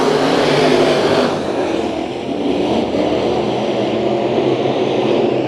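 A field of seven race cars roars away at the green-flag start of a heat race at Bakersfield Speedway, a loud, sustained engine drone that dips briefly and then holds strong, with no talk over it.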